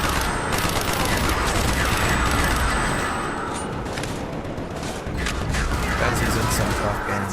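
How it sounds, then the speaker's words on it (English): Sustained rapid gunfire from a powerful gun in a video game, dense continuous bursts rattling loud and close over several seconds, with a faint steady tone in the background and a voice talking over it. "Guy's using some fucking crazy gun."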